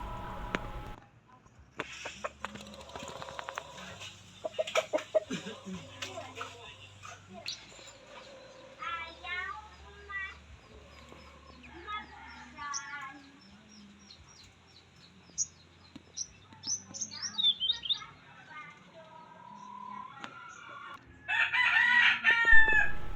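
Chickens cluck and chatter nearby while a rooster crows loudly, with more crowing and bird calls near the end; a voice speaks briefly at the start.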